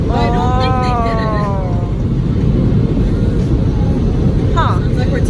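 Automatic car wash machinery roars steadily around a car interior in Los Angeles, a loud continuous rushing drone with whining tones, while people talk inside the car.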